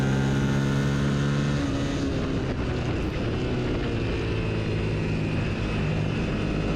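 Racing motorcycle at full throttle on the track at PittRace during an ASRA race, a loud, steady, droning engine roar that holds on without a break and slowly rises in pitch.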